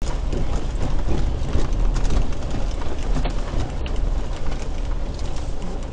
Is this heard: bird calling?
yes